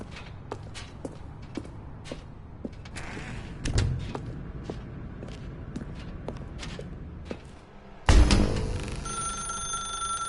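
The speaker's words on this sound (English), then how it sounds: "Now pick up the phone." A telephone rings in The Stanley Parable game, its bell bursting in loudly near the end after a stretch of creaks, clicks and footsteps in a dark room.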